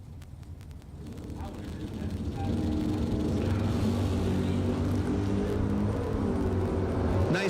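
Two Gen 3 Camaros launch off a drag racing starting line, their engines swelling into a loud, sustained roar at a bracket racing event, with a voice talking over the noise.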